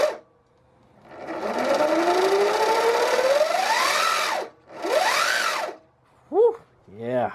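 A Sur-Ron Light Bee electric dirt bike with a brand new rear drivetrain revs up close by, its motor whine sweeping upward in pitch over a few seconds, then a shorter rising rev and brief chirps at the end.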